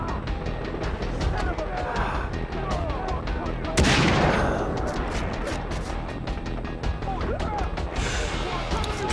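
Gunfire in the video game Far Cry 3, with rapid bursts of shots and a heavy blast partway through, amid game noise and a voice talking over the action.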